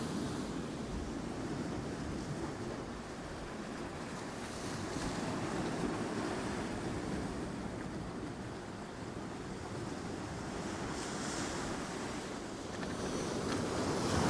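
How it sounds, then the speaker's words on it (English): Rough, choppy sea with big swells surging up a shingle beach at Hopton-on-Sea near Great Yarmouth during stormy weather, a continuous heavy wash and roar of breaking waves with some wind buffeting, no voices. "And waves are quite choppy, to be fair."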